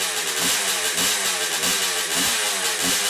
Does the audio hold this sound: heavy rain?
no